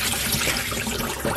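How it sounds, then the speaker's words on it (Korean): Korean rice cakes (songpyeon) being rinsed in cold water, with a steady wash of running and splashing water close by and a brief louder splash near the end. "자 이렇게 찬물에 한번 이렇게 씻은"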